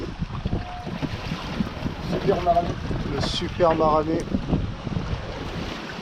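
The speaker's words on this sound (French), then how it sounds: "Il est là, le vent. Il est permanent." Steady strong wind buffets a sailboat at sea on a passage from the Canary Islands to Cape Verde, a constant roar under close voices speaking throughout.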